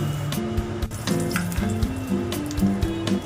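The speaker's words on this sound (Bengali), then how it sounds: "তেজপাতা, দুটো শুকনো লঙ্কা আর কালো সরষে ফোড়ন দিলাম।" Bay leaf, two dried red chillies and black mustard seeds sputtering in hot oil left from frying small fish, a loud continuous sizzle with popping crackles, close up and without speech.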